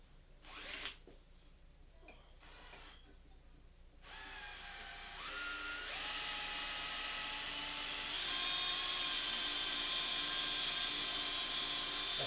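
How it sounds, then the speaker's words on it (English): Power drill enlarging a hole in an antler skull mount, a few short bursts at first, then a steady high-pitched whine that runs loud and continuous, rising slightly in pitch as it bites in. "I'm going to drill it slightly bigger so that we can adjust it a little bit"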